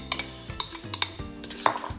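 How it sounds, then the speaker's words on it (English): Salt, pepper, garlic powder and paprika being mixed with a utensil in a bowl, producing a close series of quick metallic clinks and taps against the bowl. "I'm going to mix these together in this bowl."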